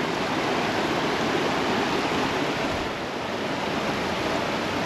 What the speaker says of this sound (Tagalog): Lumakas ang agos